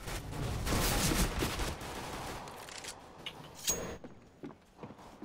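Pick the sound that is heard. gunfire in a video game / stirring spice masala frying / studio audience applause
gunfire in a video game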